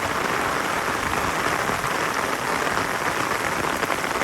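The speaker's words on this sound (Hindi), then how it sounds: "बहुत तूफानी बारिश है" Heavy stormy rain pours down over a yard in a dense, steady hiss, loud and unbroken throughout, with no voices.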